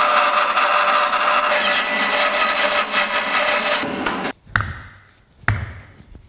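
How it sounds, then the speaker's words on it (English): A bandsaw cuts a wedge slot into a wooden war hammer handle, a loud, steady rasping whine that runs for about four seconds, then stops abruptly, followed by a short thump and a brief burst of noise. "We're gonna run to the bandsaw."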